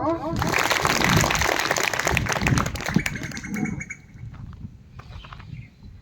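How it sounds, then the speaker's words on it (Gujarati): Students at an ashram school quiz competition in Kalasar clap in a loud burst that fades after a few seconds, leaving birds chirping and faint voices in the background. "તાળીઓ પાડો"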